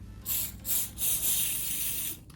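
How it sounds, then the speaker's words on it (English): Oil sprayed from a can into a resin mold, three close hissing bursts, the last one long and steady, with no talking. "you take the oil and then you just basically spray it in there"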